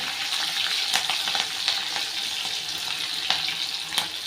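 Mustard seeds, green chili and ginger fry in hot oil with a close, steady sizzle and scattered sharp pops and crackles.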